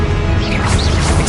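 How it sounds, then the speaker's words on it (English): A Confringo blasting spell from Hogwarts Legacy erupts as a loud, dense burst that fills the short moment, rough and crashing, with no talking over it. "Confringo."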